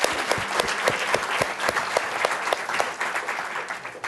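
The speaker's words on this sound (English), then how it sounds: "a big cheer to them" An audience on the Curious Minds stage at a Ford event breaks into sustained applause, with loud, sharp individual claps standing out over the steady crowd clapping.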